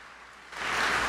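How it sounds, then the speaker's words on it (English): Applause from an audience swells up after a quiet moment, a dense wash of clapping growing louder near the end. "Let's give one more big round of applause for everyone."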